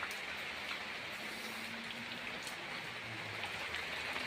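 Rain falls steadily onto plants and ground in Saudi Arabia, a dense close hiss of drops with no voices.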